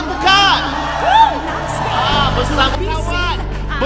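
A crowd of about 4,000 at an entrepreneur event in PWTC cheers and whoops loudly, with shouts rising over a broad wash of clapping and crowd noise that swells toward the end.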